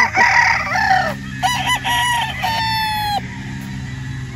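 A rooster crows several times close by at a gamefowl farm, its strained, harmonic calls rising and falling over a low murmur of other birds.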